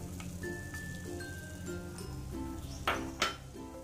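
A thick lentil barfi mixture of split moong dal is stirred in a pan, with soft scraping and a couple of sharp metallic clinks of the spoon against the pan near the end, close and moderately loud.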